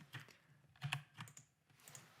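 Quiet, close clicks on a computer keyboard come in a few short uneven bursts while a command is typed into a terminal, with no voices.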